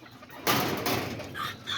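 Backyard chickens and roosters of the kikiriki and Azteca breeds cluck and squawk faintly nearby, a few short calls over a low outdoor background.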